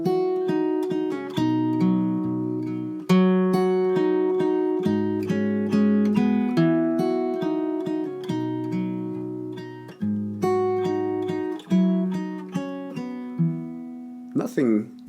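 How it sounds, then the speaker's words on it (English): The piano intro hook of 'Give Me Faith' arranged on fingerstyle guitar: clear plucked melody notes over low bass notes, close and moderately loud, ending with a brief bent or sliding note. "I had started to play around with this idea of that piano hook, but on guitar"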